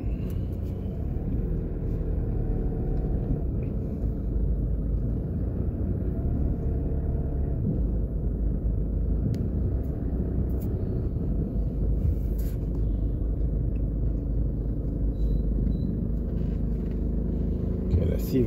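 Car driving through New Kingston, Jamaica, heard from inside as a continuous low engine and road rumble, with occasional faint clicks and bumps.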